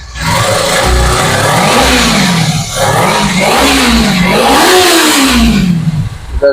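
A second-hand 2021 motorcycle at a used bike showroom starts and revs hard and close, its engine pitch climbing and falling in repeated loud bursts with a brief dip between them.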